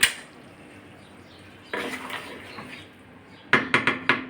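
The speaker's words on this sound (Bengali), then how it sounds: "আমি এখন একটা গামলির ভিতর তুলে নিচ্ছি" Metal utensils clatter against a pan and bowl as cooked vegetarian potol dolma with potato is spooned out, a quiet scrape at first, then a burst of sharp clinks and four quick knocks near the end.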